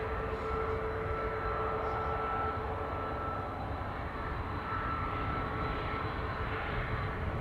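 A jet airliner departing Amsterdam Schiphol Airport gives a steady, loud engine roar that holds throughout with no letup and no voices.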